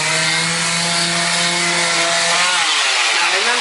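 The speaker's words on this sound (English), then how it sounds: "Now remember, I'm using a power sander." A power sander runs close and loud while smoothing a drywall patch, its steady motor whine and buzzing grind holding constant before dropping slightly in pitch near the end.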